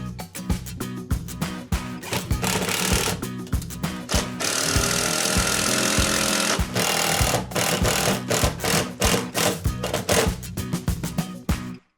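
A power drill driving screws to mount a wall bracket for a laundry shelf into a stud, with rapid buzzing runs and short bursts, close and loud, no talk.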